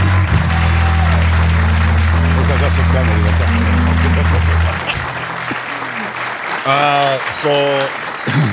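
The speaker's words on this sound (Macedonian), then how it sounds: "Аплауз за Миле Кузмановски" An audience applauding a guest on a talk show, a loud dense clapping that holds for about five seconds and then stops, followed by someone talking.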